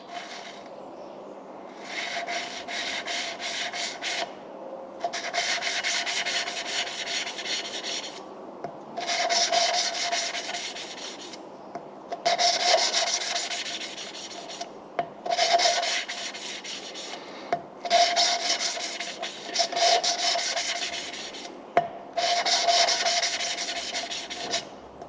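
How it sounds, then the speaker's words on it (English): Engine valves being hand lapped with grinding paste, a steady rasping rub in repeated bursts of a few seconds each, separated by short pauses, close and fairly loud with no talk. "I should think this method of lapping valves in dates back over 100"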